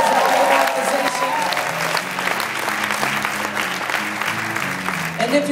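An audience at an event applauds and cheers loudly and continuously, with crowd voices mixed into the sustained clapping throughout.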